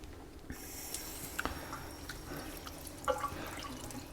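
Water runs over a Naniwa Chosera sharpening stone, a faint, steady trickle with a few soft drips, quiet and close with no voices.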